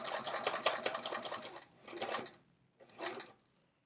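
A sewing machine stitches through both layers of a fabric pocket on a travel art folio, in a rapid whirring burst that pauses, runs again briefly, then gives a short final run, close and alone.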